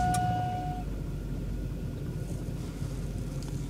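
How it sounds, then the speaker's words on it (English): A 2000 GMC Sierra 1500 pickup engine running at a steady low idle after an intake manifold gasket replacement, a continuous close rumble with a brief faint tone at the start and no talking. "now it's time to turn on the truck, get the fuel pump to prime a little bit"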